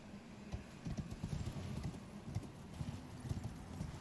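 A horse trots bareback through a video game world, its hooves clip-clopping in a steady, fairly quiet rhythm from nearby, with no voices over it.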